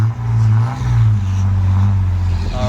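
Holden VR Commodore engine revving, heard from behind the car through its exhaust system: a loud, steady low rumble that holds nearly level across the whole stretch, close up and alone.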